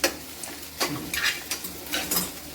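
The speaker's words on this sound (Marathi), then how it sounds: "कांद्यामध्येच ही पण मिरची छान अशी परतून घ्यायची." Green chilies and onions sautéing in a pan for a dry potato dish, a steady sizzle broken by repeated scraping stirs of a spatula, close and alone.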